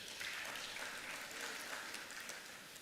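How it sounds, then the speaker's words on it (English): Audience applause at a SALGA Mpumalanga local government meeting, a steady dense patter of clapping hands lasting a few seconds, moderately distant and fairly quiet. "May we clap hands for that."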